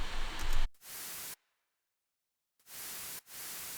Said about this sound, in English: This is a white noise layer.